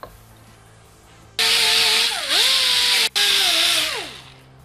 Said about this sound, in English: we're just going to deburr this and clean it up a little bit